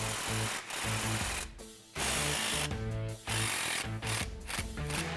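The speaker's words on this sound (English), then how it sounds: "we're going to loosen all of the bolts on the control arms and the shocks" A pneumatic impact wrench loosens bolts on the axle control arms and shocks of a Jeep Wrangler JK in a garage. It runs in loud, rapid hammering bursts separated by short pauses.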